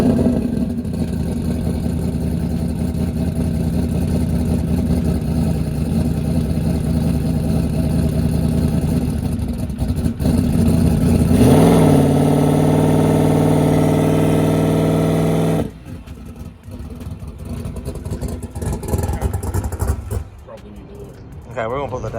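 A Ford Coyote engine fitted with a 107mm turbo idles and revs with a steady rumble, rising in pitch as boost builds around the middle, then cutting off abruptly to a quieter idle.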